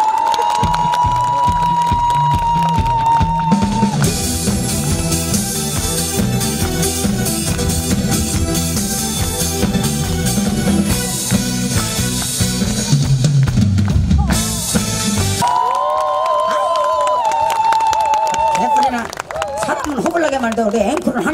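A crowd claps and cheers in front of the main stage at an autumn hot spring festival in Deoksan. Dense, loud applause fills the middle stretch, set between amplified voice and music through the PA.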